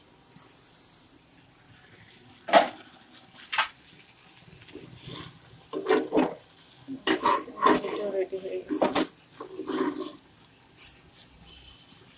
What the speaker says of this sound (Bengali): এখন বাগার দিব